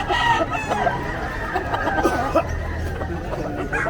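A fighting rooster crowing at the Bocaue pet market, a strained, ringing crow over busy crowd chatter and other clucking fowl nearby.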